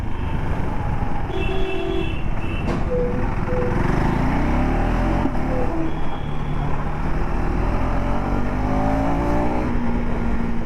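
The engine of a 2025 KTM 390 ADV motorcycle accelerates under way, a loud, steady drone whose tone climbs in rising sweeps through the gears, mixed with wind rush, with no talking.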